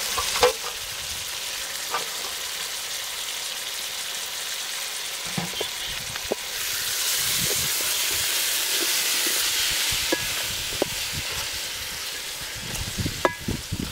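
Mutton curry frying in a pan in a Telangana village kitchen, giving a steady, fairly soft hiss and sizzle with scattered taps and clicks of stirring over fourteen seconds.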